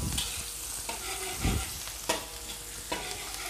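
Onions fry in oil in a pan for bihun goreng, with a bright crackling sizzle and a few louder stirring scrapes and taps, up close.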